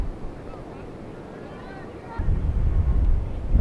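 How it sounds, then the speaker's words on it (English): Gusty wind buffets the microphone at an outdoor softball game, a soft rumble that swells into a loud low roar over the final second and a half. "windy moment here."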